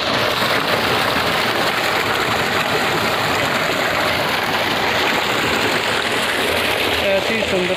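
Water flows continuously in a green park with swings, a steady broadband rush that stays loud and even throughout, with a possible motor hum mixed in.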